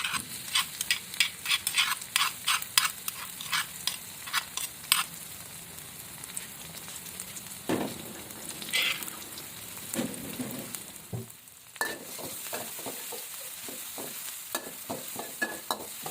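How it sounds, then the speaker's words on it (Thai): Pounded garlic and chili dropped into hot vegetable oil in a wok for a Thai stir-fry of spinach and minced pork: a loud crackling sizzle, with rapid spatula scrapes and clacks at the start and again toward the end. "หลังจากใส่น้ำมันพืชลงไปแล้วเราก็ใส่ กระเทียมพริกที่เราโขลกไว้เลยค่ะ"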